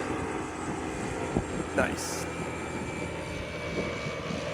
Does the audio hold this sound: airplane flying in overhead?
yes